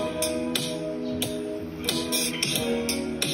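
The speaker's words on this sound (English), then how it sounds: "Drums." Drum part of a song recreated entirely from voice memo recordings, with sharp percussive hits landing in a steady groove over sustained harmonic backing, fairly loud throughout.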